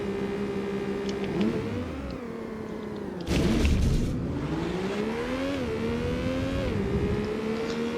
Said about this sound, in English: I also did not think this thing could rev that deep into the red zone on the tachometer